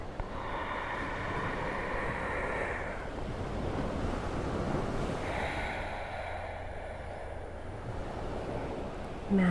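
Ocean waves roll onto the shore in Maui, Hawaii, in a steady wash of surf with two distinct swelling surges and light wind, and no voices.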